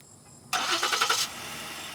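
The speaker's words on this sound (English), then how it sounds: "car starts, which is pretty dang cool." A car engine cranks and catches with a keyless push-button start, a sharp burst of cranking pulses lasting under a second that settles into a steady quiet idle, close by.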